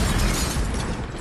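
A broad, roaring explosion sound effect fills the short moment, a dense blast that stays loud and slowly thins toward the end.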